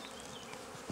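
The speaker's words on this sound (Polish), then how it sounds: "Pasieka cała huczy." Honeybees hum in a steady, low buzzing drone in an apiary, moderately close, with no voices.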